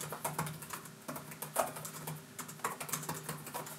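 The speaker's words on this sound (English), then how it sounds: "the sound produced while typing is nice as well" Typing on a Surface Laptop 3 keyboard produces soft, quick, irregular key clicks, close and fairly quiet, with no voices.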